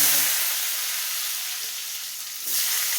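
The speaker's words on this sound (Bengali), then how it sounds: "এবারে প্রথমে আমি আলুটা ভেজে দেবো।" Potatoes frying in a pan make a loud, close hiss and sizzle throughout, swelling again near the end, with no voices.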